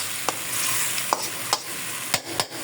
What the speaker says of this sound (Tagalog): Ayan, nakagay ng patis. Nagisa na rin yung patis.